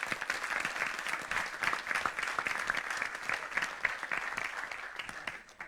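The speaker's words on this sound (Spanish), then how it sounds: "Dele palmas al Señor." A church congregation at a Bible study on Exodus claps together in a dense, sustained round of applause. Many hands patter at close range, and the sound fades slightly at the end.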